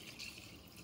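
Hot water trickles and pours into a clay cooking pot holding a potato and mutton curry, a soft, brief liquid splash heard close and alone.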